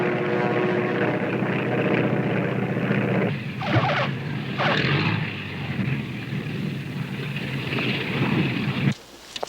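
Propeller airplane engine sound effect for a radio drama: a loud, continuous droning roar of a plane in flight that holds steady, thins out briefly, then cuts off near the end.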